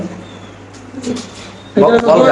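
Pigeons in an opened cage at a fancy pigeon farm give soft cooing amid rustling, with a louder burst of coos near the end, close by and mixed with a voice.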